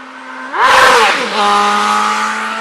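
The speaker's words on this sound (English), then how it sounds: "puts it into neutral, jams the gas as hard as he can to try and deafen us, and then takes off" A motorcycle engine idles, then is revved hard in neutral with a loud rising roar before it drops and pulls away, recorded up close from a police vehicle.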